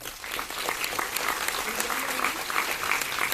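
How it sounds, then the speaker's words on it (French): Audience at a Chilean evening event breaks into steady, dense applause, many hands clapping continuously at close range with a faint voice mixed underneath. "Je pense qu'on peut les applaudir."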